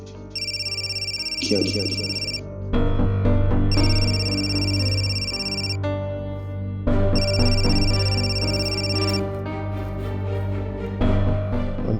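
Mobile phone ringtone with a tonal melodic tune ringing in repeated bursts over a steady musical drama score, with a brief spoken word in a voice.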